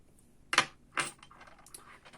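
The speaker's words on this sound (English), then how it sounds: "for number one, we have this beautiful brass key" Brass key being handled, two crisp metallic clinks close up, followed by a few fainter jingling taps in otherwise quiet surroundings.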